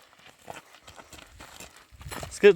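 A mare's hooves clopping on the ground in an irregular walking rhythm, fairly faint, ending with a louder burst of sound.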